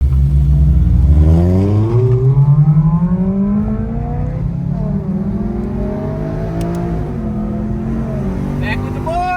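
A car accelerates hard on Angeles Crest Highway, the engine revving up through rising pitch and gear changes, loud and close, with voices talking over it.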